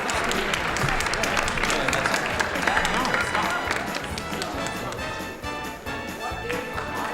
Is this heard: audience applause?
yes